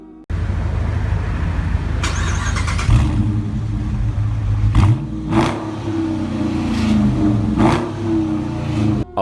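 A combustion Dodge Charger muscle car engine revs loudly and close by, a steady heavy rumble that swells and surges through several throttle blips with no voices.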